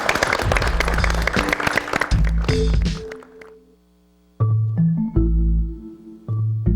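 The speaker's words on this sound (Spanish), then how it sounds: "Un aplauso para todos." A studio audience applauds for about three seconds, a dense close patter of clapping that ends abruptly. Tonal music stingers follow.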